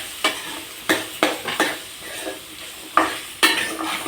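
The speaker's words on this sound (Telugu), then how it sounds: "ఈ అల్లం వెల్లుల్లి పేస్ట్ అంతా ఈ స్వీట్ కార్న్కి అంతా పట్టేలాగా బాగా మిక్స్ చేయాలి" Sweet corn stirred with ginger garlic paste in a hot pan: a spatula scrapes and knocks about seven times in an uneven rhythm over a steady close sizzle, with no talking.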